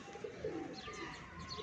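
Domestic flying pigeons give several soft, low coos with a few faint chirps, close by and alone over a quiet background.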